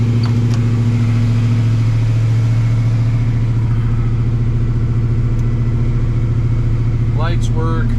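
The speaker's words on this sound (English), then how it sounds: "Magna Flow exhaust, so sounds really good." A 1964½ Ford Mustang V8 with a MagnaFlow exhaust burbles steadily at idle after a cold start, loud and close, with its low pulsing throb holding throughout. A brief higher chirp comes near the end.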